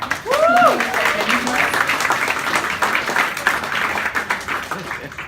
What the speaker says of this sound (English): Can we get a big round of applause for Telstra?